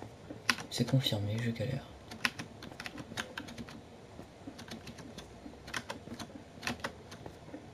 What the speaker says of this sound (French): Je sais pas si ça vous dérange les bruits de clavier, mais c'est pas grave.